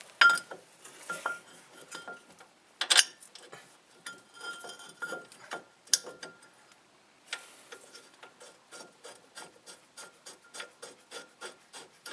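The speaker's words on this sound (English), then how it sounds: "Just slip the mounting bracket into place." A front brake caliper mounting bracket on a 2008 Pontiac G5 slips into place with quiet metallic rubbing and scattered clinks, then a run of soft, evenly spaced ticking.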